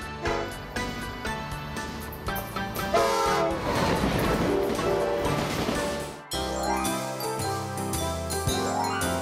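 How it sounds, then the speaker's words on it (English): A high-speed train rushes past with a rising roar, a horn blast and rattling, clicking wheels, fading out afterward. "Bullet train."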